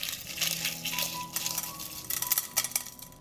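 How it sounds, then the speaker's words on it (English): Eggshells being crushed by hand: close, brittle crackles and small clinking snaps come in uneven bursts, growing busier toward the end. "I will crush the eggshells to release as many nutrients as possible."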